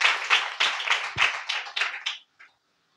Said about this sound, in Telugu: చప్పట్లు కొట్టి దేవునికి స్తోత్రం చెప్పాలి.